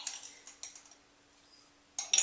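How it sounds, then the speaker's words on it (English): A metal tablespoon scoops and measures active dry yeast, making a few faint, quick clinks and scrapes, quiet and close, with a brief clatter at the end. "The first thing I do is measure the yeast, and I use 3 tablespoons of active dry yeast"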